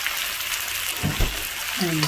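Food in a pan with sesame oil sizzles in a steady hiss while a utensil stirs it, making a few soft scraping knocks, and a voice joins briefly near the end.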